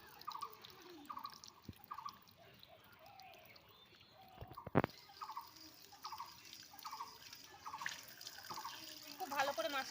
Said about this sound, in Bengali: মাছটা আমি এই যে ভালো করে ধুয়ে নিচ্ছি।